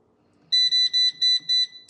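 An air fryer's control panel beeps as its five-minute timer is set: five clear, high electronic tones in an even rhythm after a short near-silence, close and loud, with no voices.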